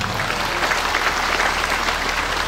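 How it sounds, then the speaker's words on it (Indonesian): Church congregation claps together in a loud, sustained round of applause, close and even from start to end with no speech over it. "Beri tepuk tangan untuk Tuhan."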